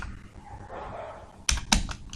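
C code is typed on a computer keyboard, a few quick close key clicks arriving in a short burst after a quiet stretch of room noise.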